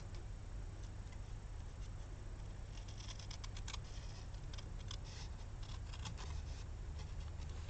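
Scissors snipping the fuzzy edge off a card strip during card making, a run of faint, irregular clicks and snips over a steady low room hum.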